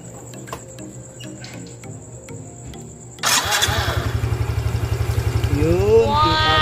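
A Yamaha Mio Soul i 125 scooter with an acrylic pulley cover sits quietly amid faint clicks, then its engine starts abruptly and settles into a loud, close, steady putter that revs up near the end.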